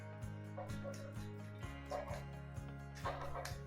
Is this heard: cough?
no